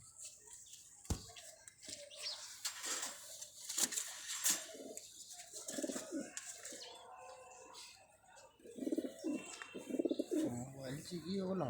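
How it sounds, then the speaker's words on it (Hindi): A golden pigeon with vermilion eyelids coos in soft, repeated low calls on a rooftop, heard close but intermittent among background rustling and other bird sounds, with a person talking nearby. "देखें, ये संदूरी पलकों का गोल्डन कबूतर"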